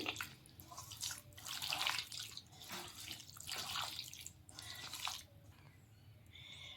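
Hands are rinsed under running tap water after mixing chicken with spices, a soft, continuous splashing stream with uneven surges, faint and close with no talking.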